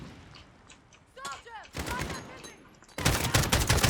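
Gunfire in Call of Duty Modern Warfare, starting sparse and building into loud, dense automatic bursts near the end, with voices talking over it.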